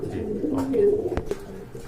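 Pigeons coo in low, throaty bursts from a collection of local and foreign breeds kept for sale, a steady chorus of nearby birds with a couple of sharp knocks partway through.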